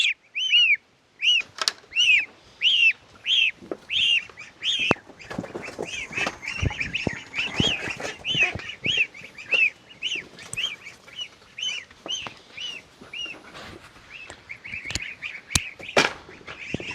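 A flock of ducks and geese honk and quack in loud, rhythmic bursts close by, then the calls turn into a busier, overlapping chatter with shuffling and flapping as the birds are moved into an enclosure.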